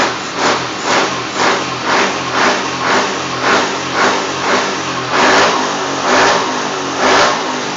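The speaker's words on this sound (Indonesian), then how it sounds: "Jadi setiap bukaan gas, motor itu merespon." A stroked-up Yamaha NMAX/Aerox scooter engine revving loudly up close, with repeated throttle blips rising and falling in a steady rhythm, about a dozen surges over a constant engine drone.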